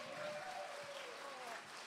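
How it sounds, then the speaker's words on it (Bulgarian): Applause for a children's choir group, Baby Voices, at an international choral festival in Balchik, Bulgaria, a steady, fairly faint wash of clapping lasting the whole short stretch, with a faint murmur of voices under it. "Я да ги подкрепим със силни аплодисменти"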